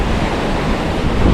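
Fast-flowing water rushing through a New Jersey creek in winter, a loud, dense, continuous broadband roar close to the microphone with no pauses or voices.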